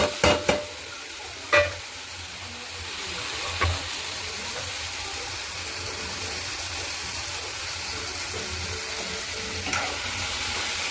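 Grated coconut stirred into cooked Malabar spinach greens in a pan: a steady, soft frying hiss with a few sharp spoon-against-pan clicks early on, then mostly continuous low sizzle.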